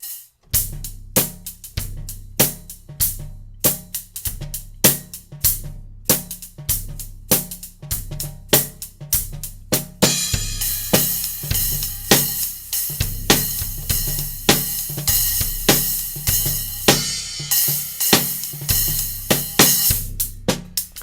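A drum groove played open-handed plays alone in a steady rhythm, with the snare hits turning brighter and harsher partway through as cymbal wash fills in.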